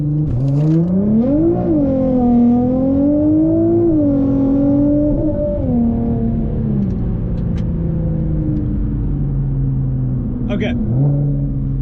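A Nissan GTR launches hard using launch control, its engine rising in pitch through a gear, dipping at a shift and climbing again, loud and close from inside the car with a voice talking over it.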